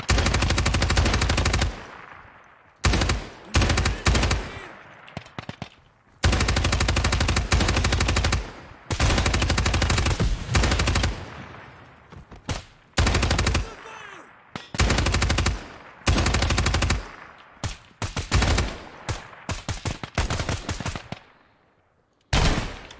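An MK46 machine gun in Ground Branch fires loud sustained automatic bursts, repeated many times with short pauses between them, until the firing trails off at the end.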